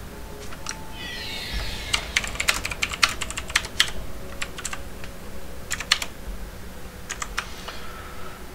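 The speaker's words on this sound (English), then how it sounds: "Why do I even type? It's not good for me." Rapid typing on a computer keyboard during a League of Legends match, dense bursts of clicky keystrokes close and clear over a steady low background hum, with no voices.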